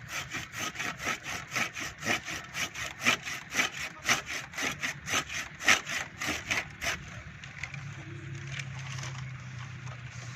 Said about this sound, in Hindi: पहले आपने आरी वाली शाखें काटनी है